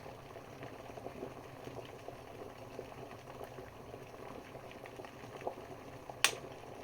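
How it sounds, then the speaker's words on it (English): Quest 600W travel kettle nearing the boil, a quiet low rumbling bubble running steadily throughout with a single short click near the end. "So it looks like it's going to be boiled any second now."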